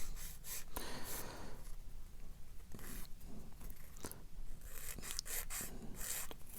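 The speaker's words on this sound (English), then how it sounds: "using a sanding stick just to tidy up the edges where they've been cut off" Sanding stick rubbing the cut edges of a plastic 1:144 Roden C-141B Starlifter model kit part: a steady, close rasping scrape with short repeated strokes and brief pauses.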